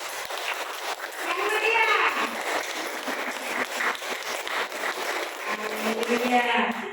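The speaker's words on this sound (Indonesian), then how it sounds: "Tepuk tangan buat saudara semua." Church congregation applauding during a sermon, a dense continuous wash of clapping with voices and children's chatter mixed in throughout.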